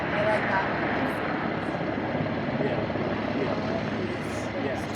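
A departing airplane at an airport in Washington, DC, a broad steady jet roar at a distance that fills the whole span, with people talking nearby.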